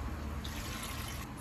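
Water pours steadily into a pressure cooker, a continuous rushing splash, close and moderately quiet, with no talking.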